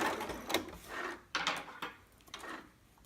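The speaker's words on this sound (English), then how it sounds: "go ahead and just sew right around there" Sewing machine stitching around fabric, heard as short whirring bursts separated by pauses and small clicks, close and fairly quiet, with no talk.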